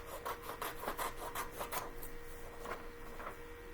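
Paper being trimmed, with a series of quick scraping cuts in a steady rhythm that slows and fades, faint and close with no voices.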